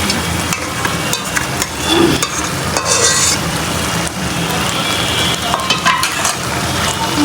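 Blended dried fish frying with onion and garlic, a loud close sizzle with scraping and clatter of a stirring utensil against the pan throughout.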